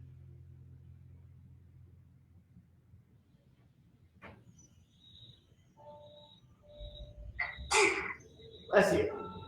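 A sneeze bursts out near the end of a livestreamed stretching class, a sharp loud burst soon followed by a second noisy burst, after a quiet stretch with faint steady low hum and an instructor speaking softly.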